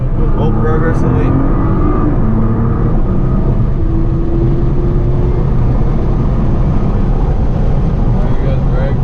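A Nissan GT-R on a race circuit, its engine holding a loud, steady drone with shifting pitch as it pulls through a corner, heard from inside the car with an instructor talking over it.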